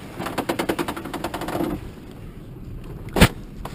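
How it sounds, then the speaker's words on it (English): A loose piece of plastic on a bike's fender wall rattles and drags in a rapid, buzzing flutter during an off-road ride, then fades, followed later by a single sharp knock. "That's a little piece of plastic you hear dragging."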